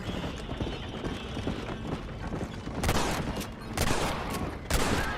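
A horse gallops in the video game Red Dead Redemption, its hoofbeats rapid and steady, with three loud bursts of gunfire breaking through near the end.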